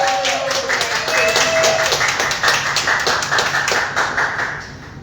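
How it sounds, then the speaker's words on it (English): Audience at a poetry open mic in Orlando clapping steadily as a performer returns to the stage, a dense continuous applause under loud room noise and faint voices. "Keep clapping till she get up here."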